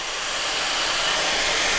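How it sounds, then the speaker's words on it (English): A pan with fish hisses steadily with steam after rice wine vinegar is poured in, a constant broad sizzle close by with no talking. "we're going to put in some of that rice wine vinegar. It's gonna make our pan steam a little"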